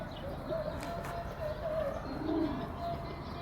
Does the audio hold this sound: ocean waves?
no